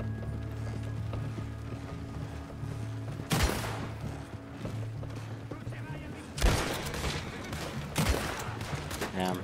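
Gunfire in Red Dead Online, with two loud sharp bursts cutting through a busy background of mechanical game noise, followed by lingering rattling echoes.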